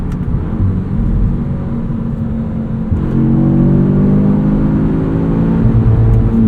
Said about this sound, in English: A few little burbles from the exhaust.